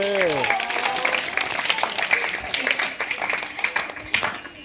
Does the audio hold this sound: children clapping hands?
yes